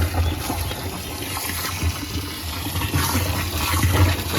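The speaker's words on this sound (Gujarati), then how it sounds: "આપણે પાણી નાખીએ" Water poured into a container of fertilizer mixture for a farm drip irrigation system, a steady close rushing and trickling pour that runs continuously without speech.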